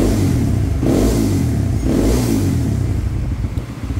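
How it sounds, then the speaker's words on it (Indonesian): Honda CB150X motorcycle fitted with a Kawasaki Ninja 250 exhaust, revved hard in two or three loud, close surges over a rough, throaty engine note. "Dan ini idle-nya nggak terlalu cempreng, kalau digeber sih agak bunyi"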